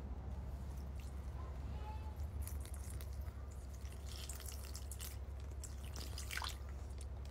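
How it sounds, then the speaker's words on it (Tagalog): Water is poured from a container onto a disposable diaper in an absorbency test, giving a steady close liquid pour and soft splashing over a constant low hum, with a few louder wet spatters near the end. "Ito na lang tubig sa tabi ko lalagay ko."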